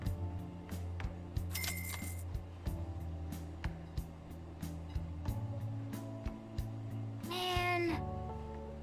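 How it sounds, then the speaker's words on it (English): A cat meows loudly twice in the video game Persona 5, the second cry long and drawn out, over light clinking and tapping sounds. "that cat is really meowing really loud"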